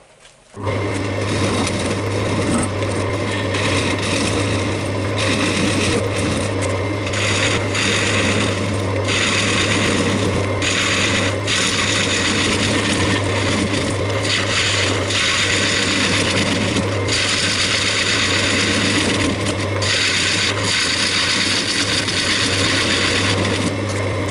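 A woodturning lathe hums steadily while a gouge cuts into a large wooden bowl, producing a continuous scraping, rasping texture with small shifts in intensity; loud and close for the whole stretch, no talking.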